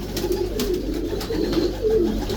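A racing pigeon coos nearby in a series of soft, repeated throaty phrases over steady background noise, with no talk.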